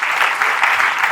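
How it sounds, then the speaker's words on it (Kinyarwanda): Brief burst of dense, continuous audience clapping at a ceremony, loud and close, with no voice over it. "kugira dushobore kwikorera amashyi"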